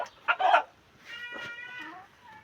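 A tiger hen (a Bangladeshi backyard laying breed) clucks after laying eggs, giving a loud, close burst of harsh cackles followed by softer, drawn-out tonal calls trailing off.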